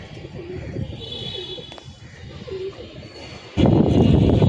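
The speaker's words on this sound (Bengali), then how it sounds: "এই যে কবুতরগুলা ল্যান্ডিং টাইম হয়ে গেছে, এখন বসবে কবুতরগুলা" Pigeons outdoors cooing softly in the distance amid faint ambient noise, followed by a sudden loud rustling burst near the end, like wings flapping close by.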